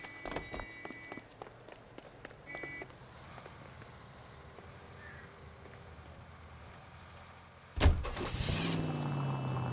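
A car in the L.A. Noire video game starts off and drives, with a steady engine hum. A sharp thump and a surge of noise come near the end.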